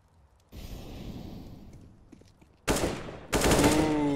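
Gunfire in a Counter-Strike esports match, bursts of rapid shots that cut in abruptly in two loud blocks near the end after a quieter stretch of game ambience, with a brief voice underneath.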